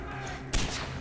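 A single sharp gunshot in Far Cry 4, fired at a sniper, cracks out midway through a short, quiet stretch of game ambience.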